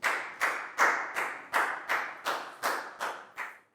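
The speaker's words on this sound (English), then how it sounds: "High five and a big round of applause for Nadia, please, guys." A class of primary pupils claps in unison during a maths lesson: about ten sharp, evenly spaced group claps, loud and close, each with a short decaying tail, with no voices.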